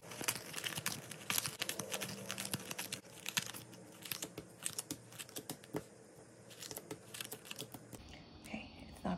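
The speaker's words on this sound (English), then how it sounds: "Here I go, time to shuffle." Budget cash envelopes are shuffled by hand, with quick papery crinkles, rustles and taps coming in bursts, close and quiet, and faint breathy sounds in between.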